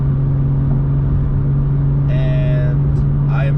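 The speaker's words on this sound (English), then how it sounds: "So currently we are accelerating to speed" A BMW M2 engine drones steadily under speech as the car accelerates, a low constant hum with faint higher whines near the end, close and fairly loud.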